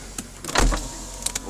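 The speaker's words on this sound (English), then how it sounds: "Okay, so electric windows," The electric windows of a Ford Focus LX estate car whir briefly, with a short motor hum and a soft thump as the glass stops, heard close up inside the car.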